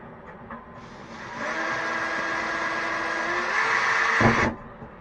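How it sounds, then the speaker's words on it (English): A power drill whirs steadily for about four seconds while drilling holes in a yacht, its pitch shifting slightly under load, then winds down with a short clunk. "how much I hate drilling holes in my boat"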